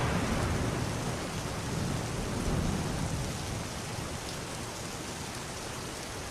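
Heavy, intense rain roars in a dense, unbroken hiss, loud and steady throughout, with a faint low rumble suggesting distant thunder and no voices.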